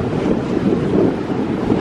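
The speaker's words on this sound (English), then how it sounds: "It is windy, in case you can't tell." Strong wind buffets the microphone in a steady, roaring broadband rush beside choppy harbour water between cruise ships at Nassau, Bahamas, with no talking.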